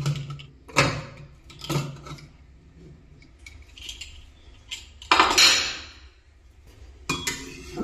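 A metal lid lifts off a pot of cooked goat meat curry with several clanks and clinks of cookware, in short bursts and close by, with no voices.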